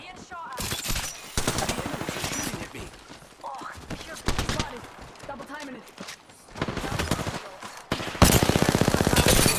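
Rapid automatic gunfire bursts in Apex Legends, loud and close, with sustained rattling volleys separated by short pauses while players talk over the action.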